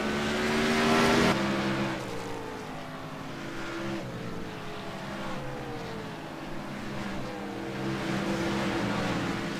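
Race trucks lapping Martinsville in a PC racing game series, engines droning and revving close by with shifting pitch sweeps as cars pass, a loud burst near the start then steady racing noise.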